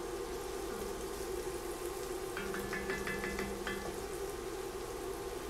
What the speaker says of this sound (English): it doesn't take long for this garlic to cook up, and we're still cooking in our bacon grease or our bacon fat.